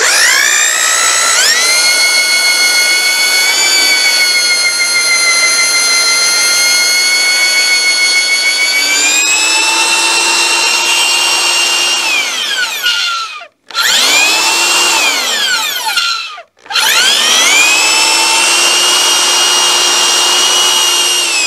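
A power drill with an inch-and-a-quarter spade bit bores a hole through a log during a dovetail log cabin build, giving a loud, close, sustained whine that slows under load, with two brief stops and restarts.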